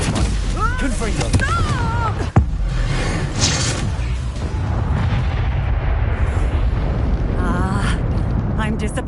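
Confringo blasting curse exploding in the video game Hogwarts Legacy, a sharp sudden blast followed by rumbling, booming combat effects, with voices calling out over the fight.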